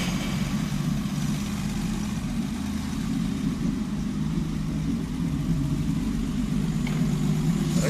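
A Unimog 404 engine fitted with two Solex carburetors idles steadily with a blown exhaust muffler, a loud continuous low rumble running evenly throughout with no talk.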